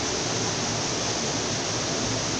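A waterfall on a hiking trail in Guapimirim, Rio de Janeiro, gives a steady, dense broadband rush with no voices heard.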